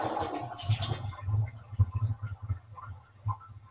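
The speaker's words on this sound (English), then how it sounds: "we'll flush it again to make sure there's no water up in there" A toilet flushing again after its water supply was shut off during a bidet installation, giving weak gurgles and irregular sputtering from a near-empty tank, heard up close with no talking.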